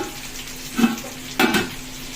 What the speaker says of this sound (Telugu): బయట తీసిన చికెన్ తవా ఫ్రై చేస్తున్నాము.